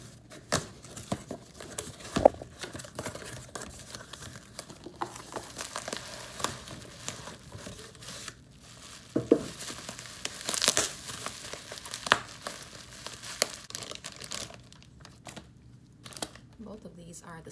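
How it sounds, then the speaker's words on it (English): Package of Ben Nye thick blood makeup, including a 16-ounce jar, being unboxed: soft close crinkling, tearing and rustling of packaging in irregular bursts, with some sharper crackles and quiet stretches between. "I'm about to unbox some blood makeup"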